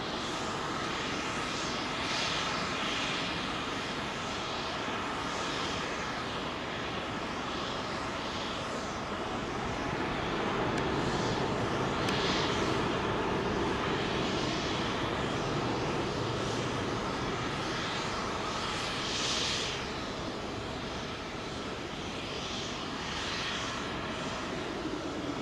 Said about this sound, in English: Virgin 350 heading to Atlanta.